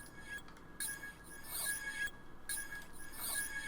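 Undistorted, the same reversed and chopped FL Studio sample plays thinner and quieter, with a few reversed swells and abrupt dropouts between phrases and no talking.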